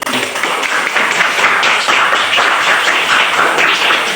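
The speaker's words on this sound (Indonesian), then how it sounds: "aplaus untuk anak-anak semua" Applause for schoolchildren in a classroom lesson, a steady wash of many hands clapping at once that holds evenly from start to finish with no voices rising above it.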